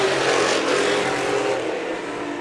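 Race cars roar around a short track during a feature race at the Dean Smith Memorial, a dense, continuous engine drone from several cars close by with no talk.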